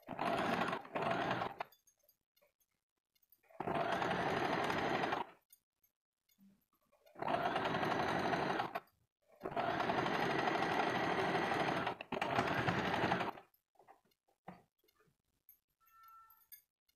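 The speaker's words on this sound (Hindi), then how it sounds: "ऐसे करके फिर ऊपर की तरफ सिलाई कर देते हैं।" A sewing machine stitches a katori blouse in several loud, close bursts of rapid whirring, separated by short quiet pauses, with faint handling sounds between runs.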